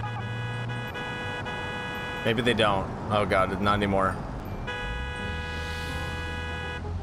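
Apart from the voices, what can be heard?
taxi car horn honking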